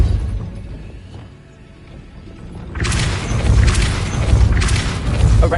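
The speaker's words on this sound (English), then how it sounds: "That looks as if it might raise the gate." Heavy stone gate mechanism in a Harry Potter wizarding video game grinds into motion after a low rumbling lull, a loud, sustained mechanical rumble with rattling crashes rising and holding through the rest.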